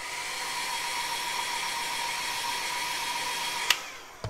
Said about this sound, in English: I'll give that a quick hair drying.